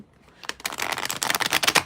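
A deck of cards is shuffled once, close to the microphone: a rapid fluttering riffle that builds over about a second and a half, then stops, with no one speaking.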